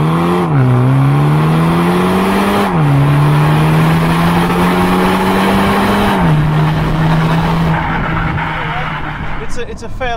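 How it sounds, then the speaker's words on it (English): A BMW M235i Gran Coupe with a 2-litre four-cylinder engine accelerating hard, its exhaust note rising steadily through several gearshifts with clear drops in pitch, loud and close with road noise, a voice speaking briefly near the end. "I'm going to drop this down so we can maybe hear a bit of exhaust"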